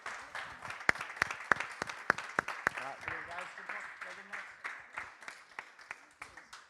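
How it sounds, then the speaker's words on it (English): Applause and scattered clapping for the winners and runners-up at an esports tournament final, sharp individual claps in a fairly quiet room that thin out and fade over several seconds. "Another huge round of applause to our runners-up and, of course, to our winners."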